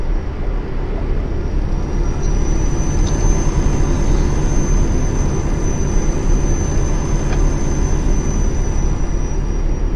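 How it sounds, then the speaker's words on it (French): A fixed-wing airplane drones overhead in a steady, loud, continuous roar with a thin whine above it, rising and holding without break, alone with no talking. "Un avion."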